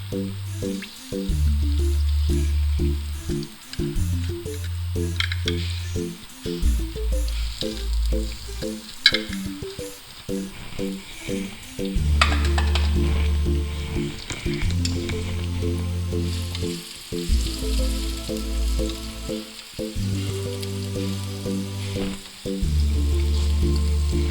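Onion fries in hot oil with bay leaves and spices in a pan while cooking kaleji, giving a continuous hissing sizzle that sits beneath a loud, rhythmic, bass-heavy music bed, with no talking.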